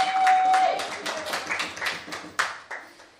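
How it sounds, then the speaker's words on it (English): Audience at a talk gives a round of applause for a speaker, close, fairly light clapping that starts full and then thins into scattered claps over about three seconds. "please let's have a massive round of applause for Beata"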